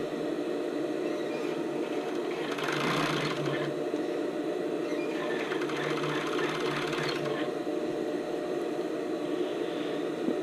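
A home sewing machine stitches elastic onto a lace-up tank top, two steady whirring runs of a few seconds each over a constant background hum, fairly close.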